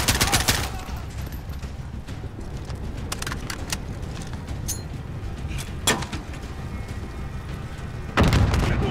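Machine gun fire in Call of Duty: Modern Warfare during a London assault on a gun nest, scattered loud shots and bursts over constant battle rumble, with a heavy blast near the end.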